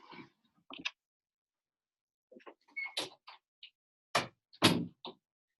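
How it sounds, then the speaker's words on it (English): A door being shut indoors: a scattering of clicks and knocks from the latch and handle, then two louder thuds near the end as it closes, with no talking. "hold on, I'm going to shut my door."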